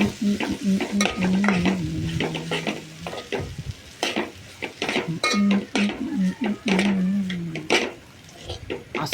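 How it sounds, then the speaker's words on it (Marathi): Leftover white rice from the fridge fries in a pan with a steady sizzle, stirring scrapes and occasional utensil clinks, while a voice talks over it at intervals. "काल भात ठेवला होता फ्रीजमध्ये व्हाईट रंगाचा तो तळून खाल्ला बघा"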